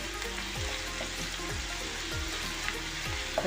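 Onion sautéing in a pan for spicy Maharashtrian kharda chicken: a steady close sizzle of frying with a few soft scraping stirs, no voices.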